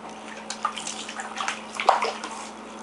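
A baby splashes water in a bathtub, irregular close slaps and sloshes with a few louder splashes, over a low steady hum.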